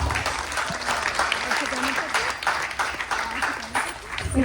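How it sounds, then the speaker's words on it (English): Audience applauding children who performed at a Ganesh Chaturthi festival gathering, steady dense clapping from a crowd throughout, with a voice speaking over it. "Please give them another round of applause."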